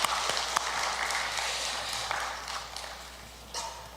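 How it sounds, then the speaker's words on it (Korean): A Korean church congregation at a special Holy Week dawn prayer meeting gives sustained, dense applause to God. The clapping is steady and moderately loud, with a few sharper individual claps standing out. "하나님께 영광의 박수 올려드리겠습니다."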